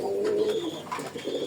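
A pair of red-eyed pigeons coo up close, a low, rolling call that rises and falls clearly on its own.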